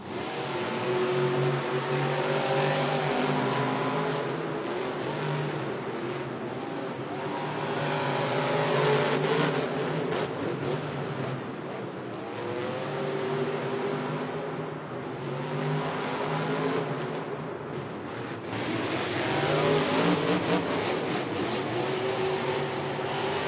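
Monster trucks roaring as they launch into a race at a Monster Jam stadium event in Syracuse, New York, with loud sustained engine drone rising and falling in waves over the whole stretch, no talk.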